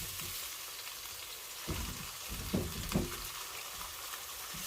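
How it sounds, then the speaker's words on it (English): Garlic frying in olive oil in a pan gives a steady, fairly quiet hiss close by, with a few soft stirring knocks partway through and no one talking. "you want to put the garlic in here by itself into, you know, fragrance. You don't want to burn the garlic."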